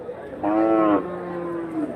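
A native cow at a cattle market in Krishnagiri district gives one loud, drawn-out moo lasting about a second, close and clear above quiet background noise.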